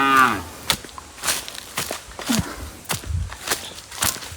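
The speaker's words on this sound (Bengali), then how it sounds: "ওই যে গরু দেখেন" Cattle on a rural Bangladeshi farm, near a field sown with grass pea, give a loud, drawn-out moo at the start, followed by scattered rustling and footstep-like thumps. No one speaks.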